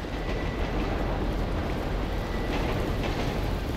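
A train rumbles past in Grand Theft Auto 5, a loud, steady roar of rail wagons with faint clatter throughout, up close and continuous.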